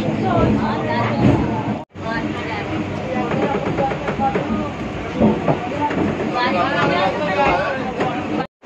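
A local train pulls away toward Sealdah in Kolkata, a steady rumble and rattle of the carriages running throughout, with a brief break near two seconds and people chattering over the noise.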